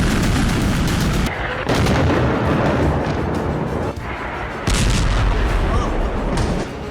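Bombing explosions in Beirut, a loud, dense barrage of blasts and rumbling booms filling the whole stretch, with brief dips between heavy bursts.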